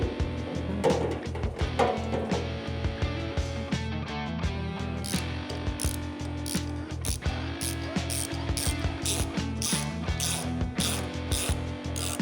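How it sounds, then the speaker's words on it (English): A ratchet wrench clicks in quick bursts while tightening hose clamps on a fuel pump for a 632 big-block OBS truck, the ratcheting steady against a loud music bed throughout. "We'll finish tightening them up by torquing them to 60 inch-pounds."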